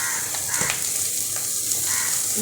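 Mixed vegetables sizzle steadily in hot oil, a dense continuous hiss with faint scraping or stirring textures, close and fairly loud.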